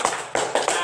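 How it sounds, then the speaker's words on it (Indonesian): A short round of classroom applause for a student, a few bursts of clapping from a small group of hands over about a second, with no voices. "Silakan beri aplaus dulu untuk Soleha ya"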